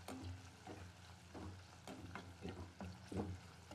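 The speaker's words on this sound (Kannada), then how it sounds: "ಈಗ ಈರುಳ್ಳಿ ಹಾಕೋತೀನಿ. ಚೆನ್ನಾಗಿ ಫ್ರೈ ಆಗ್ಬೇಕು ಸ್ವಲ್ಪ." Onions and curry leaves frying in a pan for a village-style green liver gojju give a faint, close sizzle with soft rhythmic scraping of a spatula, quiet throughout.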